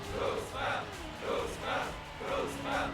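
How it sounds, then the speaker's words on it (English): Fans at a Trackmania race chant rhythmically for the player Spam, five or six loud swelling bursts in a steady two-syllable cadence, with a commentator's voice faintly underneath. "the crowd is going wild"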